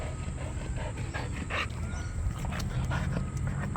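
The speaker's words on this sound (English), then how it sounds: "What's that dog doing?" A dog pants steadily at close range with a soft whimper or two, set against a constant machine hum in a machining shop.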